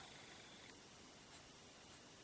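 Pencil drawing a curve on paper for a technical geometry drawing, a soft continuous scratchy graphite stroke, quiet and close, with a faint tap near the end.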